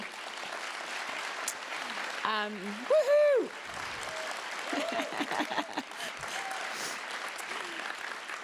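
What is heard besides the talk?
audience applause and cheering at symposium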